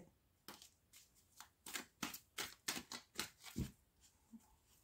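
Tarot cards are shuffled by hand in a series of crisp riffling bursts that grow louder in the middle, then taper off into soft handling, with no speech.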